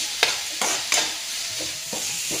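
Onions with ginger-garlic paste fry and sizzle in a pan as a spoon stirs them, with several sharp scraping strokes over a steady close-up hiss.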